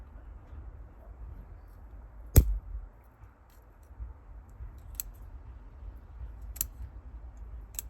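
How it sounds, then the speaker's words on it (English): Scissors prune the roots of a dogwood cutting with four crisp, isolated snips spaced a couple of seconds apart. Each snip is sharp and close over a quiet, faintly rustling background. "I'm just gonna prune this root where it starts to curve upward so that they continue flowing down into the soil"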